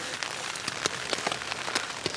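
Rain falling outdoors with scattered sharp drips and taps landing on nearby surfaces, a soft steady patter between the louder drops, no voices.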